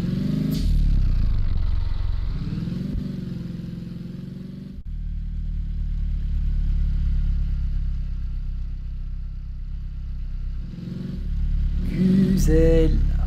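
A Honda Civic engine in a driving simulator game hums and revs in waves, its pitch rising and falling as it accelerates and eases off, with someone talking over it at points.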